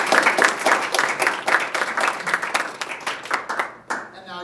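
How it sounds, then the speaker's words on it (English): Audience clapping at an internship presentation event fills the room with steady, moderately loud hand claps, tapering off near the end. "Pause here for applause."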